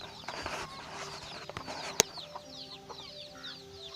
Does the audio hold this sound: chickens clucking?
yes